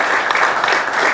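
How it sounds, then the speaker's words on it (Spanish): Audience applause at a presentation of a municipal cycling team in Salto, dense steady clapping throughout, loud and close, with no talk over it. "también un fuerte aplauso para todos ellos"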